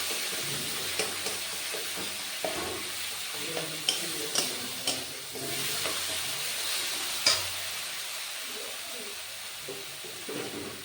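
Bengali fish curry spice paste frying in oil in a pan: a steady soft sizzle and hiss with intermittent scraping and clinking stirring strokes, close and moderately quiet.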